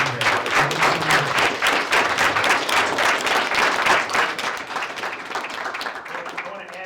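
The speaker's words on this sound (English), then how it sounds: "let's make sure we give a round of applause today for Mr. De La Rosa and Conoco Phillips for being here" Audience applause for guests at a high school intern panel, brisk clapping that swells early and gradually thins out toward the end.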